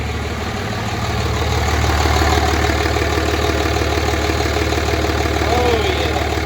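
A salvaged 3rd Gen Cummins diesel engine idles steadily and close by, with a continuous low rumble and faint mechanical knocking at an even pace throughout.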